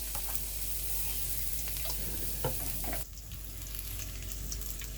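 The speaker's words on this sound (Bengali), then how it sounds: "পেঁয়াজ আর রসুন ভেজে তুলে রাখবো" Chopped garlic and onion frying in a pan, a soft continuous sizzle with scattered pops and light stirring scrapes, faint and close, no voices.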